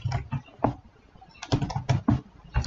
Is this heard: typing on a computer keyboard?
yes